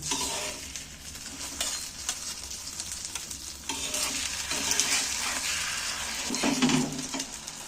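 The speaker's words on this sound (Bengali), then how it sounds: "এবার আমি উল্টিয়ে দিচ্ছি" Egg and gram flour batter frying in a pan gives a loud, continuous sizzle close by, with soft scraping as it is turned over, and no one speaks.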